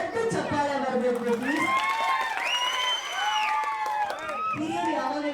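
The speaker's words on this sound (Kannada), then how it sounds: "ಈಸೂರಿಗೆ ಮೊದಲನೇದಾಗ ಒಂದು ದೊಡ್ಡ ಚಪ್ಪಾಳೆ ಬರಬೇಕು." Outdoor election campaign rally crowd in Shikaripura applauding and cheering as a loudspeaker voice carries over them, the clapping dense and steady beneath prominent amplified speech and music-like tones.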